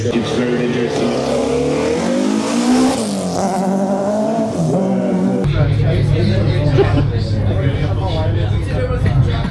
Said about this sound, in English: it's now time for an actual racing spec BMW M3 E30. The 4-cylinder,